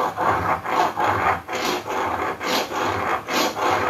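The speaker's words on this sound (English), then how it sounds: "I'm just trying to keep the flat inside face against the flat of the stone." A steel router cutter is rubbed back and forth on a flat sharpening stone in a workshop, a steady rhythmic rasping of about eight close strokes with no talk.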